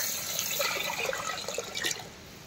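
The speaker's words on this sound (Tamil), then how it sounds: "நம்ம கூட்டி வச்ச குழம்பு ஊத்திக்குவோம்." Homemade fish curry is poured into a pan of hot oil with crackled curry leaves, giving a continuous watery splashing and sizzling pour that swells briefly near the end, with no voices.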